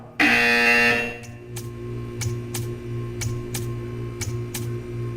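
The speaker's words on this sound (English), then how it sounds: "When you hear the buzzer, stare at the art." A buzzer in the video game Portal 2 sounds in a loud, sustained burst at the start, followed by a series of short, evenly spaced sharp pulses over a steady low hum.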